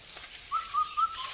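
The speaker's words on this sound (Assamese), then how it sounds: "ওপৰত চৰাই মাতি আছে" Birds calling in a forest with elephants nearby, a few short whistled notes rising and gliding, clear and fairly close over a quiet background.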